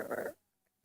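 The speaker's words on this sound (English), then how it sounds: "Listen to this sound. This is what my burps sound like." A person lets out a short, throaty burp, loud for about a third of a second and then cut off into near silence.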